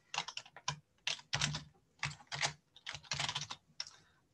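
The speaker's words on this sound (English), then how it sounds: "So just typing in a few different instances" Fast, close bursts of keystrokes on a computer keyboard, typed in short irregular clusters with brief pauses while entering code in RStudio, clear and alone without talking.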